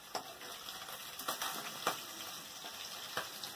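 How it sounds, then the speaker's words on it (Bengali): Pieces of rohu fish fry in a pan in a home kitchen, giving a steady quiet sizzle broken by a few soft spattering pops, with no talking. "আজকে রুই মাছ রান্না করছি। থাকছে আগে ভেজে নিচ্ছি মাছগুলোকে।"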